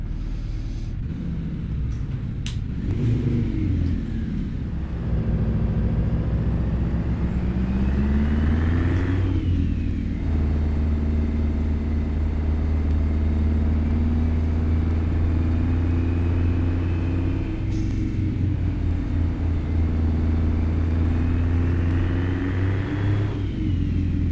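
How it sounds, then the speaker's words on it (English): A Kenworth 521 truck in American Truck Simulator, hauling a heavy Fruehauf trailer, rumbles with a deep engine drone that rises and falls through several long revving swells, steady and close throughout with no talking. "You'd be surprised what that Jake does for you."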